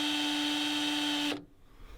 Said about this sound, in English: Drill it as straight as you can